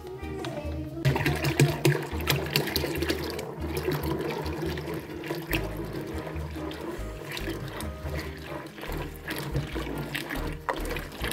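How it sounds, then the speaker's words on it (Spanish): Water is poured into a horchata mixture of rice, vanilla essence and cinnamon in a home kitchen, a running, splashing stream with clatter and other household sounds around it and no clear talk. "le vamos a poner suficiente agua para que quede lista nuestra agua de horchata"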